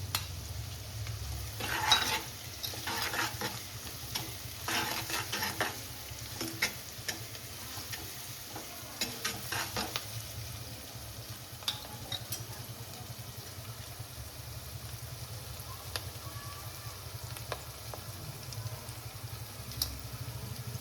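Grated ginger and garlic frying as they are stirred in a hot pan, a steady close sizzle with scraping stir strokes bunched in the first half, then a quieter, even hiss with no voices.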